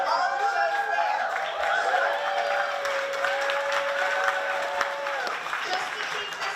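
Sustained applause from an audience at a Kansas City fringe festival preview, steady clapping throughout with light crowd murmur and a few chuckles mixed in.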